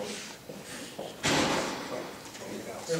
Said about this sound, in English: Close the other door.